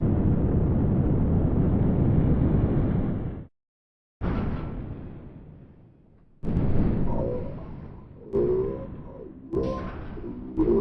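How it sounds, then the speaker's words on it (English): In the GTA 5 Flight School ground-flight lesson, a plane's wings clip on each turn. Several rough, roaring bursts are separated by short gaps, with no voices. "I've isolated the sounds, and you can hear I do actually clip my wings as I turn each time"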